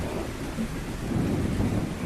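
Rain pours steadily over a soft low rumble of thunder in a cartoon story scene, a dense continuous wash with no voices.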